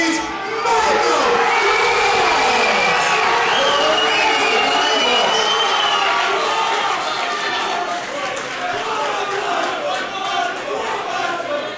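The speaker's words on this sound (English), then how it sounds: "People just practically screaming Michael's name at the start of this." A sold-out crowd in Leeds screams and cheers a fighter's name at a combat sports event, a loud, unbroken roar of shouting voices filling the whole stretch with a commentator talking over it.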